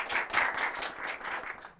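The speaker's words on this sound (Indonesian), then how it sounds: "Oke, tepuk tangan dulu buat Kak Agung semuanya." A studio audience claps for a guest named Kak Agung on a talk show, a short, dense burst of many hands applauding together that stays steady and close throughout.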